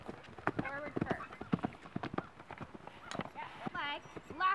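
Horse hooves clip-clop through a riding lesson as the horse works toward a lead change, quick hoof beats landing under steady talk from an instructor.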